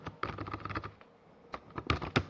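Keystrokes on a computer keyboard while C code is typed, in quick close bursts of clicks with a short pause midway before a few firmer taps.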